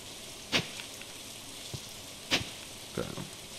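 Steady hiss of rain falling in the farming video game Stardew Valley, a soft continuous wash broken by a few brief sharp ticks.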